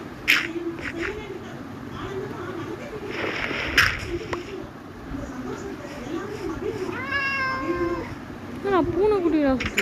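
A Minecraft cat meows several times, with short mewing calls and a longer wavering cry near the end, mixed in with a person talking throughout.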